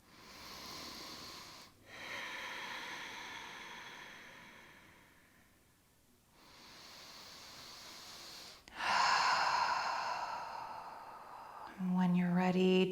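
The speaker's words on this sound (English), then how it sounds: "2 more deep breaths here." Slow, deep breaths taken during a gentle yoga flow, a few long audible inhales and exhales spaced several seconds apart, soft and close with quiet pauses between them.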